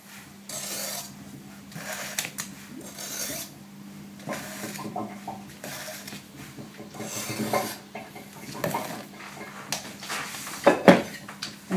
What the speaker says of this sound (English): work it round with the palette knife at first, take off any excess from the top